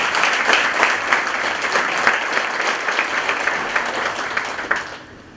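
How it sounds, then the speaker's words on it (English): Steady audience applause at a Colonial League academic breakfast welcoming the principal of Northwestern Lehigh High School, dense clapping that holds for several seconds before tapering off near the end. "So let's give her a big round of applause."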